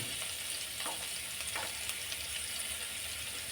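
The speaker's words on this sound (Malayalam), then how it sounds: "കൊച്ചുള്ളി ചേർത്ത് കൊടുക്കുകയാണ്" Small shallots frying in coconut oil with mustard seeds for a Kerala-style fish curry, giving a steady hiss of sizzling with a few soft stirring scrapes, close and fairly constant.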